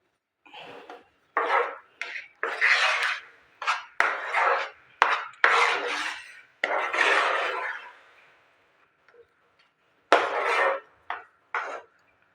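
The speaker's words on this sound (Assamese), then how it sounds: "এইখিনি মই ভালদৰে লাৰি থাকিম যাতে তলত লাগি নধৰে।" Masoor dal mithai being stirred in a pan over a low gas flame, a spoon scraping and knocking against the pan in repeated short bursts, close and fairly loud, with a few quiet pauses.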